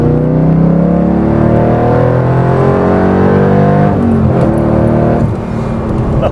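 A 1991 Chevrolet Corvette ZR-1 revs and accelerates, its engine note climbing steadily in a loud, sustained, harmonically rich roar heard close up, then easing briefly near the end.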